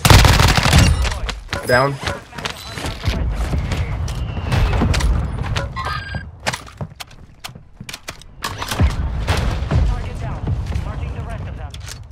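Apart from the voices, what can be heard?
grenade launchers firing in a video game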